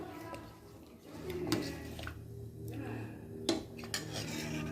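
Metal utensils scrape and clink against a cooking pot as sambar is stirred, with a few sharper knocks amid steady kitchen noise.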